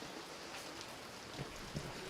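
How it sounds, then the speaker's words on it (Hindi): Steady heavy monsoon rain during flooding in north India, a dense, continuous hiss of falling water with a few louder drops, no voices. "बड़ी बरसात है"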